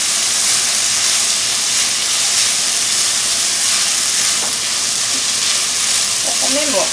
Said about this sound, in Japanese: お米を入れて炒めます